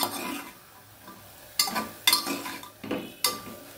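A spoon stirs a chana chat mixture of chickpeas in a pot, producing a few quiet, irregular scraping and clinking strokes against the pan over a soft background.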